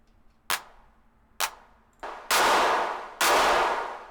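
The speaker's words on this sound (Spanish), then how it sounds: "Como esta palma sí que me mola como suena así distorsionada" Distorted clap from a Drumazon drum machine in a techno setting, four sharp hits with the last two harsher and longer, fuzzy decays trailing each, loud and alone.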